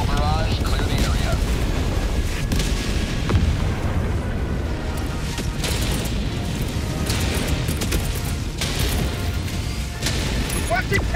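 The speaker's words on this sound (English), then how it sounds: "Firing orbital barrage, clear the area." Orbital barrage strikes in the game Helldivers 2: a continuous rumbling, crackling wall of explosions with repeated heavy booms and sharp bursts over about eleven seconds, with speech mixed in.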